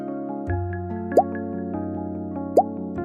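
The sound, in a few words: drops of oil dripped into dish of water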